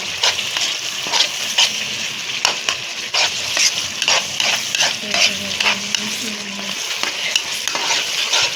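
A guava sweet mixture roasts and sizzles in a pan while a spoon stirs it in steady scraping strokes, loud and close, with a faint clink of the pan now and then.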